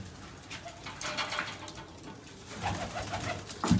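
Pigeons cooing softly in a loft or coop, several low, rounded coos rising and falling in short phrases over a faint background hiss, fairly close and unaccompanied by talk.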